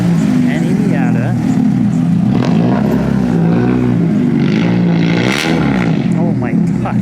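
Loud Mazda Miata engine at a car show in Tokyo, roaring steadily nearby with revving throughout, under excited talk from onlookers.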